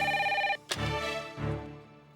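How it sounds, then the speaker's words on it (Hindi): Telephone ringing during a phone call in a drama scene, a steady electronic ring tone that cuts off and gives way to busier overlapping sound, brief and fairly close. "रवि किसे फोन कर रहे?"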